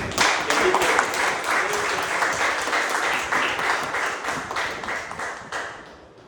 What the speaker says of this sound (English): let's clap for the new executive committee